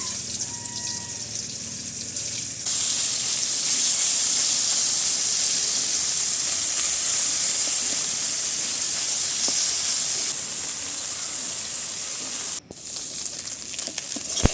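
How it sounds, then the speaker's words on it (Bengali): Small mola fish frying in a little oil, a loud continuous hiss of sizzling that swells after a few seconds and holds steady, close and with no talking. "মলা মাছগুলো সুন্দর করে ভাজা হয়েছে"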